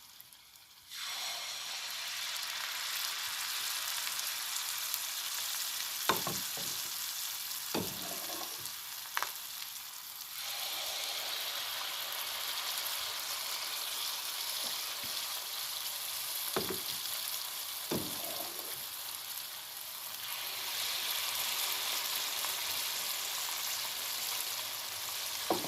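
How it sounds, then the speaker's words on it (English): Continuous hissing and bubbling of dough fritters frying in hot oil, nearby and steady, broken by a few sharp clinks and scrapes. "now the dough is frying"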